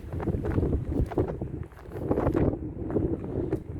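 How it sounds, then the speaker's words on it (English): Gusty wind buffeting the microphone in low rumbling surges by a church in Liopetri, Cyprus, rising and falling over a few seconds, with no talking. "It does get very windy here."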